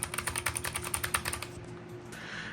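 Rapid, close-up clatter of keys on a computer keyboard for about a second and a half, then the keystrokes stop and a faint hiss remains.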